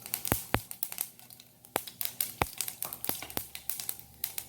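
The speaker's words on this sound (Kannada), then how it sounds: "ಎಣ್ಣೆ ಸ್ವಲ್ಪ ಬಿಸಿಯಾದ ಕೂಡಲೇ ಸ್ವಲ್ಪ ಸಾಸಿವೆ ಚಟಪಟ ಹೇಳ್ತಾ ಇದೆ" Mustard seeds crackling and popping in hot oil, heard as sharp, irregular snaps scattered quickly over a soft sizzling bed, fairly close and with no voices.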